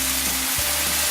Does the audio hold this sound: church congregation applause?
no